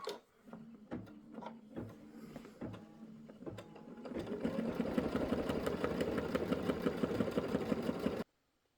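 An embroidery machine sews an applique placement stitch for eyes, nose and ears on a quilt block, first as irregular mechanical clicks and hums, then settling into a steady, fast, dense stitching rhythm that ends abruptly.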